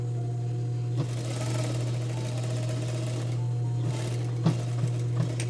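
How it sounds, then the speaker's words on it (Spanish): An electric sewing machine hums steadily while stitching a seam along the folded edge of men's jeans, a close, constant motor drone with a few light clicks from the fabric and the machine. "y paso una costura en la orillita del doblez que hice"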